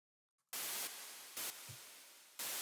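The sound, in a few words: white noise synth patch playing a 16th-note rhythm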